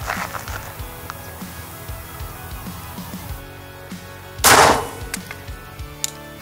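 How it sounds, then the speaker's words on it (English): A Glock 44 pistol firing .22 rounds at a Firebird exploding target: a series of faint, evenly spaced pops, then one loud burst as the target goes off, followed by a few more light shots. "Final fun with the Glock 44."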